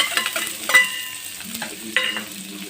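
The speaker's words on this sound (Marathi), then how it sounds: "आता हा एक कांदा चिरलेला आहे तो घालायचा आहे" Chopped onion dropped into hot oil with mustard seeds and cumin, crackling and sizzling close up, with a few sharp clatters of a spoon stirring the pan.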